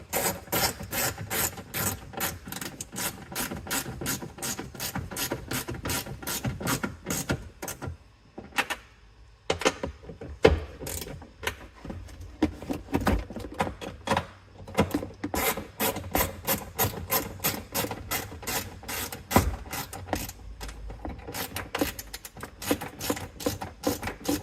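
Small 8mm nuts are tightened on a car trunk, producing a long run of rapid close ratcheting clicks in bursts, with a few short pauses between runs and no speech.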